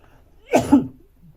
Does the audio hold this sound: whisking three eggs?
no